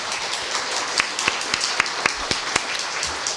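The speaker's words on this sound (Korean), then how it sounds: "박수로 다시 한번 하겠습니다." A church congregation claps during a Sunday service to welcome a newly registered member, a scattered, moderately loud patter with a few sharp distinct claps standing out over a diffuse background.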